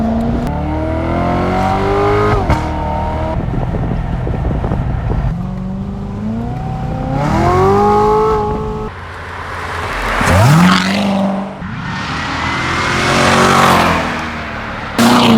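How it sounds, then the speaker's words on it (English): A car driven in track mode with magnetic ride control revs hard through repeated gear changes, engine pitch climbing and dropping in loud, close sweeps with no talk. "Right now we're driving it in track mode, which is going to give you the best response to the vehicle"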